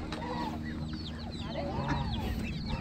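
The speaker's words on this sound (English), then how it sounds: "you got some chickens here too, right?" Chickens cluck and chatter at a crowded exotic bird and animal swap in Waverly, Iowa, several hens calling in short overlapping bursts against steady background crowd noise.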